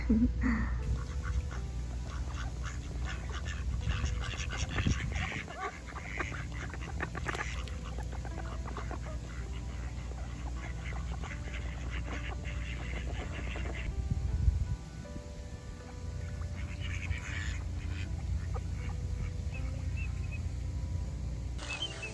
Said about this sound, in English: Just watching all these little ducks.